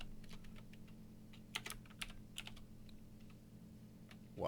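Someone types on a computer keyboard, entering an MD5 checksum command in Kali Linux, with quiet scattered keystrokes and a few louder taps in a hushed room.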